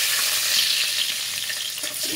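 Chopped garlic frying in hot oil for a flour-and-potato breakfast dish, a loud, bright continuous sizzle with faint stirring underneath.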